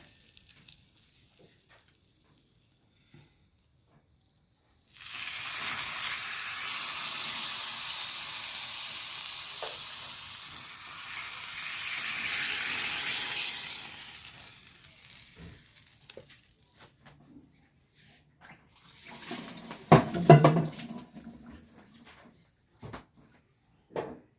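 After a near-silent start, liquid poured into eggplant curry in a hot pan bursts into a loud, close sizzle that holds for several seconds and fades, followed later by a short burst of stirring and scraping.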